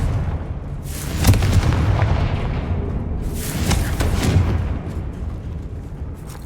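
Confringo spell explosions in the video game Hogwarts Legacy: two deep, rumbling booms a few seconds apart, each with a bright crackling burst that fades into a low, continuous roar.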